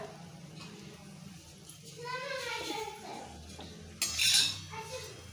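Someone talks, then a short metallic clatter follows as a brinjal thalipeeth flatbread is lifted off a hot griddle and set onto a plate.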